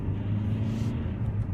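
A 2015 Vauxhall Insignia 140 SR rolls over a speed bump at about 30 mph, heard from inside the cabin as a steady, close, low engine and road rumble with no sharp impact standing out.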